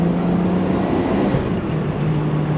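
Nissan R34 GT-R fitted with universal valved mufflers and a free-flow downpipe, exhaust valves closed so the engine intake dominates: a steady, loud low hum and whoosh, fairly constant throughout.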